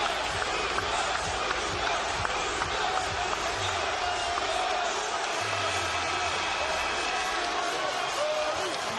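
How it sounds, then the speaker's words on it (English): A loud basketball arena crowd roars, cheers and chants for Luka Doncic of the Lakers, a dense, sustained wall of noise with voices rising through it. "They're cheering along with the crowd."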